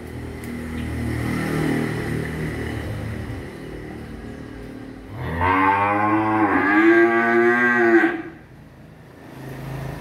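A cow lets out one long, loud, resonant moo lasting several seconds at a cattle farm holding selected breeding cows, preceded by low background rumble and fading to quiet.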